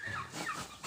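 Brief, faint clucking and gobbling of chickens, a short burst of fowl calls heard from a little distance.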